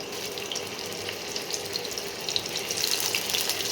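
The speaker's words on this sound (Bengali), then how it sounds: "তেলটা গরম হয়ে গেছে এবারে মাছগুলো আস্তে আস্তে আমি ছেড়ে দেবো" Rui fish frying in hot oil makes a continuous hissing, crackling sizzle at close range, with small pops scattered over the steady bubbling.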